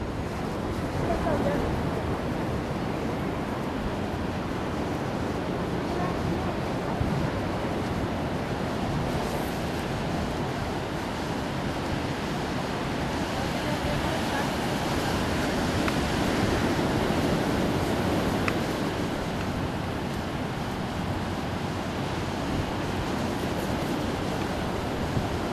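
Steady broadband surf from ocean waves at Jacaraípe beach on a sunny day, a continuous close roar with wind buffeting the microphone and no distinct breaks between swells.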